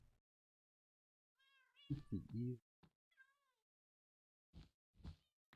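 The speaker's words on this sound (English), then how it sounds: "we put all of these stolen cats in" Game cats in Minecraft meow several times in a short burst, with a louder caterwaul-like cry in the middle, then a few more meows after pauses, fairly near and heard without speech.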